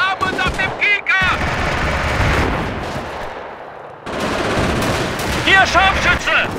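Dense gunfire and artillery blasts in the World War II strategy game Company of Heroes, Stalingrad setting, with loud rapid bursts and booms throughout and German soldiers shouting over the battle.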